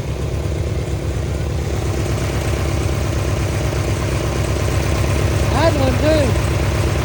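A vintage rat-rod lawn mower engine idles with a steady low putter throughout, and a voice speaks briefly over it near the end.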